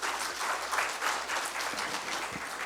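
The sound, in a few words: audience applause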